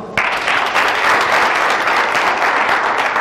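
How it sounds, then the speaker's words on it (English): A seminar audience at a forex trading event bursts into applause, starting abruptly and holding a steady, dense clatter of many hands. "So clap for yourself."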